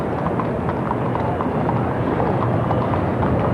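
Many hooves clip-clop steadily on pavement in the 1985 Great Circus Parade in Milwaukee, a continuous clatter of several horses moving together over a crowd-like murmur.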